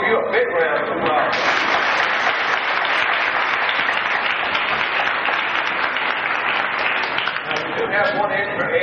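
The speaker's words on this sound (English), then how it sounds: "We'll give you a big round of applause." A crowd at a 1986 kindergarten graduation gives great-grandparents a big round of applause, with loud, steady clapping filling the whole stretch and voices mixed in beneath.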